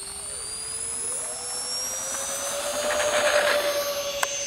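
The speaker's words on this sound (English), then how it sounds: "Taking off E-flite A-10," An E-flite A-10 Thunderbolt II RC jet with 64mm electric ducted fans spools up for takeoff, its high whine rising steadily in pitch and loudness and swelling as it passes close by, with no voices.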